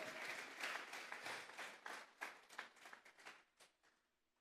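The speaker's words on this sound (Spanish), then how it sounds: "Vamos a regalarle otra ofrenda de palmas al Dios de la gloria." A church congregation breaks into warm, dense applause that swells briefly, then thins into scattered claps and fades out, with no voices over it.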